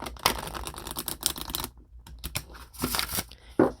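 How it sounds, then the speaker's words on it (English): Tarot cards from a deck resembling a Lotería set are laid out one by one on a surface, giving a close series of soft slaps, slides and light card shuffles with brief pauses between placements. "I'm going to place 12 cards out, one for each month."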